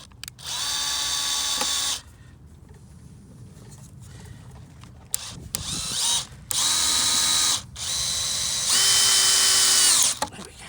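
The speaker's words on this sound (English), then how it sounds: "Getting that in with the drill" Cordless power drill driving a fixing into the timber shelving of an allotment fruit cage, several loud whirring bursts of a few seconds each, separated by short pauses with light handling noise.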